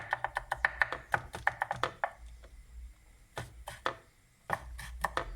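A knife taps rapidly on a cutting board while ginger is minced into small pieces, with bursts of quick close chops, a short pause, then more chopping.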